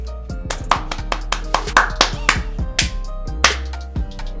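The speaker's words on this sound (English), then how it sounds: "I don't know why I'm clapping for that." Several bursts of hand clapping with irregular spacing over a steady low hum, fairly close, a few claps standing out louder than the rest.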